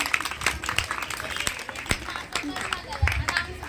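Audience clapping at a school event with mimicry and anchoring, scattered claps and crowd noise under a talking voice throughout.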